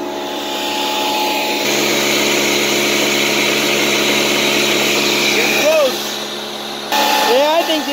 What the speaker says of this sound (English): Air compressor is warm now.